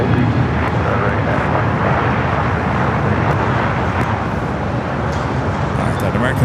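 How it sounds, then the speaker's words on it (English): An American Airlines Dreamliner jet begins its takeoff roll on runway 25 right at LAX, a broad, loud engine roar with wind-blown rumble over the whole span, with a voice talking over it. "All right, the American Dreamliner now rolling."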